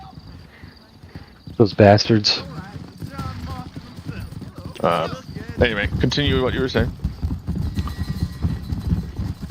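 Horse hooves clip-clop at a steady, rhythmic pace in the video game Red Dead Redemption, close and clear beneath people chatting over the gameplay.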